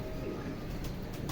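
A pigeon on a rooftop coos faintly and briefly, a soft, distant sound in a short, quiet moment.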